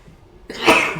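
A single short, sharp sneeze bursts out at close range after a moment of quiet.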